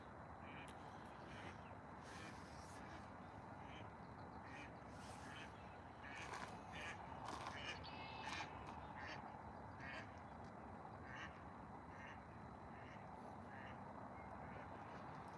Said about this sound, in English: There are so many different types of ducks at this refuge.